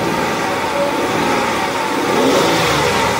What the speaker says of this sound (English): My friend is revving up the engine and nothing happened.